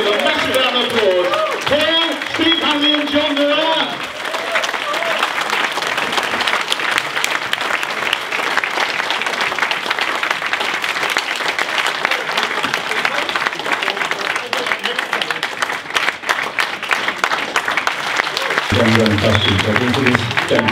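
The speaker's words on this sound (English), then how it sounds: "Can you give a massive round of applause?" A massive round of applause from the audience at a rock 'n' roll book club Q&A, loud dense clapping that swells and holds for many seconds, with talk heard at the start and end.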